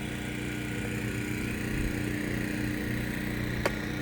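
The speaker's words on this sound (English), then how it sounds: "pardon the noise there, we got a food truck selling donuts." A food truck selling donuts runs nearby in a residential neighborhood, giving off a steady low engine or generator drone at moderate loudness, with a faint tick partway through and no voices.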